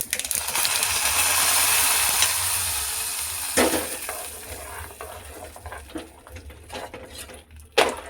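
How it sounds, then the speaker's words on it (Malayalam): Fried mustard seed tempering poured into okra pachadi, a loud sizzling rush that fades over a few seconds, followed by scattered clinks and light stirring. "നമുക്കിനി കടുക് വറുത്തത് ഒഴിച്ചു കൊടുക്കാം."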